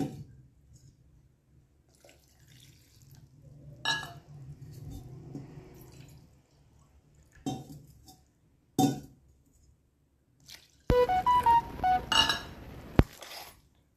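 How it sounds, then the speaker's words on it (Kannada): Water splashes and trickles into a metal pan for a few seconds near the end, after quieter clinks and kitchen handling sounds; water added to cornflour for halwa. "ಈ ಬಟ್ಲಲ್ಲೇನ 2 ಬಟ್ಲ ನೀರು ಹಾಕ್ರಿ."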